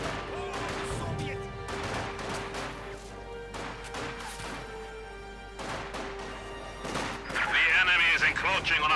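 Company of Heroes 2 battle: repeated bursts of gunfire and impacts crackle through the match, layered with a steady tone and game voices, swelling into louder crashing near the end.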